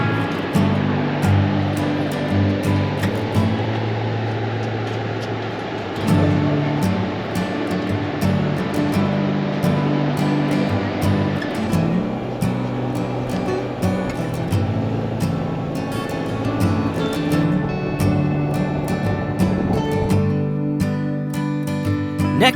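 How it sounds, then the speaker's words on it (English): Waterfall at Twin Falls roaring as a steady, loud rush of water, continuous and close, with no talk over it. "It's a cool waterfall."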